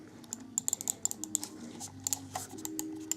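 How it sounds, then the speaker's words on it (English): A Cooler Master Storm Devastator gaming mouse gives a quick series of sharp, light button clicks, close up and fairly quiet, in uneven bursts over a low background hum. "You got a good range of the clicking here too."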